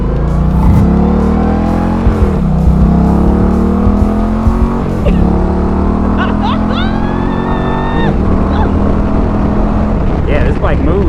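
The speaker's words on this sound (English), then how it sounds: "Yeah, this bike moves, man." An Indian bagger motorcycle carrying two riders pulls hard on the road, its V-twin droning loud and close as it shifts through gears, with wind rush and occasional talk between the riders.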